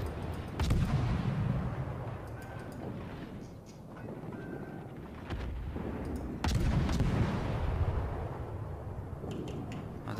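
Heavy naval cannon fire from warships in the game World of Warships: several deep, booming blasts at irregular intervals over a constant low rumble of battle and sea ambience.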